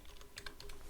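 Quick, light keystrokes tap on a computer keyboard while entering a spreadsheet entry, several close clicks in a short, brisk burst at low volume.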